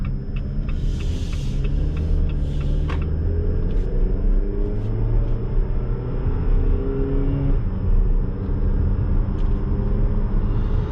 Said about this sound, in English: let's see how this 6-speed with the 4-cylinder behaves and does.